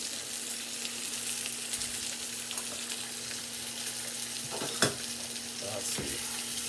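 Vegetables sizzle steadily in a hot pan while being stirred and moved around, with a few sharper clacks of a utensil against the pan near the end.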